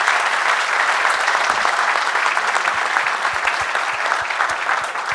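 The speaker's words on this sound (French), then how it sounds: "On peut l'applaudir bien fort." An audience at a regional crafts awards ceremony gives apprentice Lilou loud, sustained applause, a dense wash of clapping that carries unbroken through five seconds with no talking.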